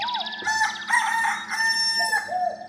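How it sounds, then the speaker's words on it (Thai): A rooster-crow bird sample is triggered from a pad on an SX-series keyboard, giving a clear, loud, synthetic-sounding cock-a-doodle-doo that repeats over a few seconds with no talking. "เสียงนก"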